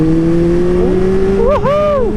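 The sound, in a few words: motorcycle accelerating hard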